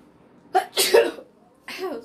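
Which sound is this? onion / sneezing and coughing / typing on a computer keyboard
sneezing and coughing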